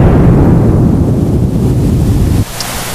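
A loud explosion sound effect with a deep, rumbling low-end roar that holds for over two seconds, then cuts abruptly to a quieter tail.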